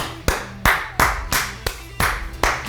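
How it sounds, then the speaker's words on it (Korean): Hand clapping in a steady rhythm, about seven sharp claps roughly half a second apart, close and fairly loud, with no one speaking. "자신에게 박수를 한번 쳐주시죠"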